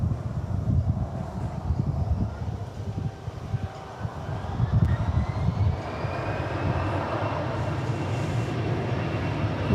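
An Emirates Boeing 777 jet heads out for departure at DFW Airport, bound for Dubai; its engines give a steady, broad roar with a faint rising whine that swells slightly, heard at a distance.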